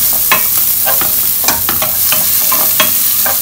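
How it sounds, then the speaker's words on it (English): Nasi goreng stirred and fried in a hot pan over a high flame, a steady loud sizzle broken by repeated scraping strokes of a spatula, close up with no talking. "Fry nicely."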